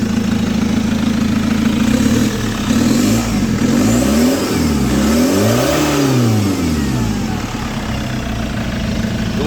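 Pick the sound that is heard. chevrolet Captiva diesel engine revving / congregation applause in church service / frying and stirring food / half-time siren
chevrolet Captiva diesel engine revving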